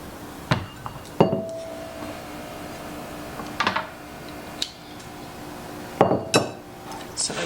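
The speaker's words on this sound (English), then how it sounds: "let's get these chilies diced up" Knife chopping green chiles on a cutting board, a few sharp, separate knocks spaced irregularly, close and fairly loud against a quiet room.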